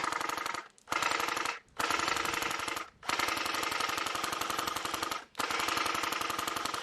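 An airsoft gun fires BBs into the air in long, rapid full-auto bursts, a dense mechanical rattle broken by three brief pauses, loud and close, with no talking.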